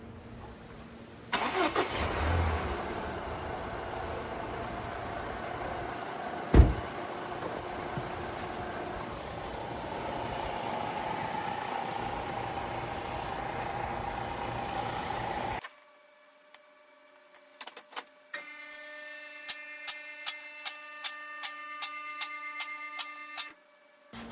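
A 2016 Volvo XC90 engine cranks and catches, then idles with a steady rumble for a while; afterward it cuts out, leaving quiet, regular ticking clicks.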